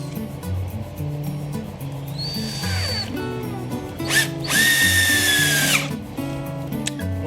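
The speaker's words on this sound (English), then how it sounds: "it's so much easier with a nice little drill like this. This is a Ryobi" A Ryobi cordless drill bores into a wall for hanging a sound bar and decor, giving two whining bursts, a short one and then a longer, louder spin, over light background music.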